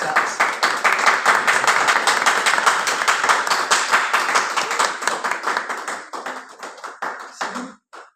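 A church congregation claps together, loud rhythmic hand claps in a steady beat that gradually loosen and thin out, ending in a few scattered claps.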